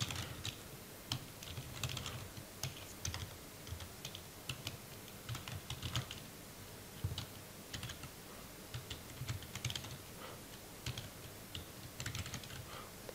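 Steady, rapid keystrokes on a computer keyboard, fairly close and quiet, continuing without talk over a low background hum.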